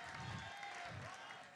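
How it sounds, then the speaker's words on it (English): Audience applause at a European Splatoon 2 championship, steady crowd clapping sustained throughout, somewhat distant and even. "We're going to give them a round of applause."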